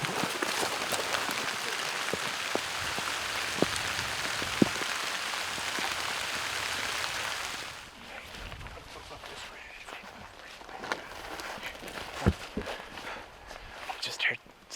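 Steady rain hisses over hilly Ohio public land on a cold 41-degree day during a muzzleloader deer hunt. It is dense and close at first, then thinner and quieter halfway through, with scattered drips and rustling knocks.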